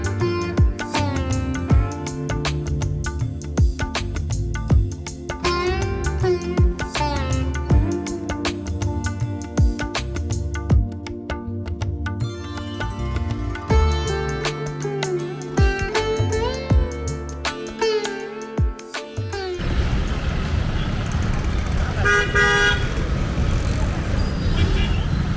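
Dense two-wheeler road traffic in India with engines revving and horns tooting repeatedly, a busy, continuous din of motorbikes close by.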